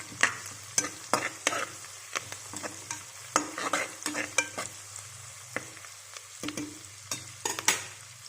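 Mint leaves stirred into masala frying in a pan for a potato and egg curry: a steady run of scraping spoon strokes over a soft continuous sizzle, close and alone.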